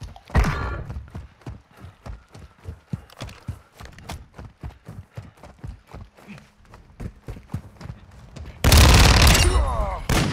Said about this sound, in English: Yeah, they're sniping.